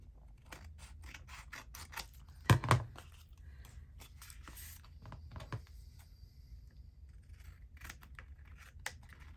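Scissors snip through paper while trimming a window tuck-and-flip craft piece: a quick, close burst of cuts in a quiet room, with faint rustling and handling before and after.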